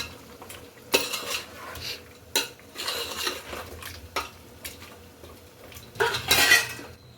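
A spoon stirs chicken and ground masala in a metal pot for chicken dum biryani, scraping and clinking in several bursts with brief pauses, close and fairly loud, and a short bright clatter near the end.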